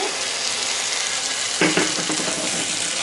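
Steady sizzling fills the clip as a Polish peasant stew cooks in a pot, then a splash as a small amount of water is poured in, briefly intensifying the bubbling hiss.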